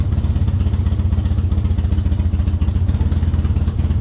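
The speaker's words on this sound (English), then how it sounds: "Slowly release the clutch, you will feel the vehicle pull forward." A Harley-Davidson motorcycle engine running steady and loud up close, a throbbing low rumble with an even pulsing beat as the clutch is slowly let out and the bike starts to pull forward.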